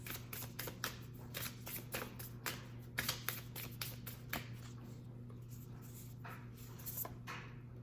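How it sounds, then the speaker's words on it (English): An oracle card deck is shuffled close by in a quiet room, with repeated crisp riffling and flicking bursts over a faint steady hum. "I want to pull from this oracle deck."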